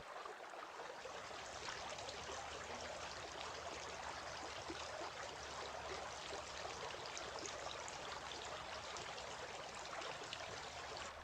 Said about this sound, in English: Rinsing the mouth.